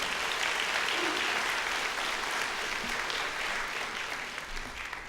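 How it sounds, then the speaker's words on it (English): A large leadership conference audience claps in a broad, continuous wave of applause that holds steady for several seconds and only slightly tapers toward the end. "I think they deserve a round of applause."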